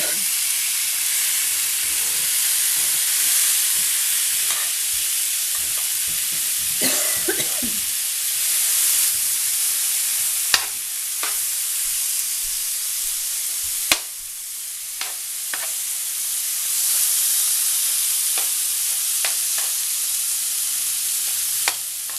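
Marinated chicken gyros with onions sizzling on a hot plancha, a continuous bright hiss with a few sharp clicks and brief stirring scrapes, close and steady, no talking.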